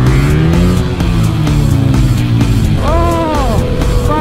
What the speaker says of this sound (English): Oh, backfire!